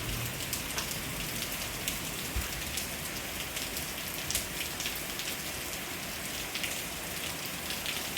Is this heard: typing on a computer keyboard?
no